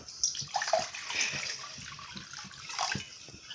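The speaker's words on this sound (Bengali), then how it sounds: "এখানে আমি গ্যাসের উনুনে কড়া বসিয়ে দিয়েছি কড়াতে আমি দিয়ে দেব জল" Half a litre of water splashes into a kadai sitting on a gas stove, a short, close pour with a bright, steady gush.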